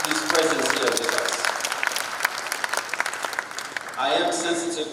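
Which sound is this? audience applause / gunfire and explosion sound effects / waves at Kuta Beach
audience applause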